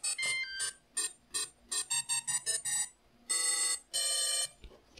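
Four brushless motor ESCs on a combat robot play a beeping startup tune, a quick melodic run of bright electronic tones followed by two long beeps, close and clear with no talk.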